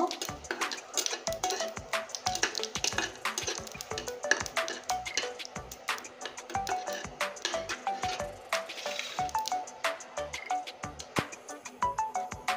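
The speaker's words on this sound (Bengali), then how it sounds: "আর দিয়ে দিব জিরে। ফোড়নটা আমি লাল করে ভেজে নেব।" Cumin seeds tempering in hot oil crackle and pop in quick, irregular bursts, a soft continuous spatter heard up close and alone.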